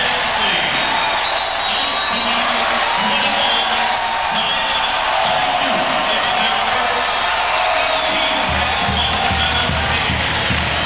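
A volleyball crowd roars in Rec Hall, loud continuous cheering and clapping from a packed arena, with a commentator talking over the noise.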